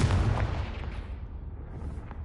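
A Confringo spell detonates in the Hogwarts Legacy video game with a loud, deep, booming blast that rolls off into a fading rumble.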